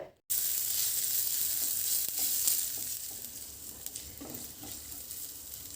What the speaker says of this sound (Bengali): আদাটাকে হালকা নেড়ে চেড়ে নিতে হবে